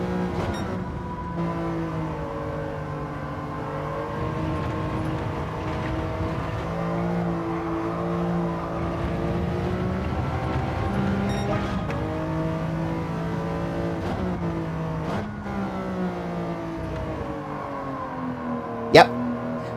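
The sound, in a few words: racing car engine from the video game Gran Turismo 7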